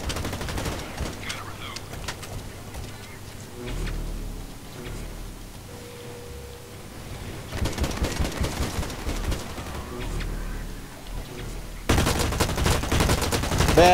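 Gunfire in the video game Blacklight: Retribution, played on the Heavy Metal map: bursts of rapid shots come in clusters between quieter stretches, with light talk among players.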